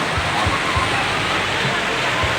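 Strong mountain stream water rushes continuously, a loud broad roar close by, with faint low thumps underneath.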